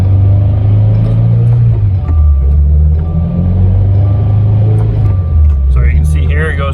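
A Mitsubishi Evo runs on a lift with its repaired transmission going through the gears, a steady low engine drone with shifting tones rising and falling throughout, under loud nearby talk.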